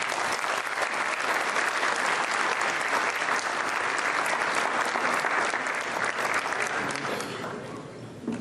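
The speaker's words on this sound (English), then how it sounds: "Please welcome Ambassador Ashok with a round of applause." Dinner audience at a community unity event applauding to welcome an ambassador to the stage, sustained dense clapping for about seven seconds that then fades out.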